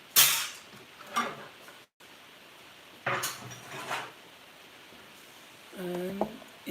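A chopping board is set down and handled in a home kitchen during a cooking session, giving a few separate wooden knocks and clatters with pauses between them and brief speech near the end.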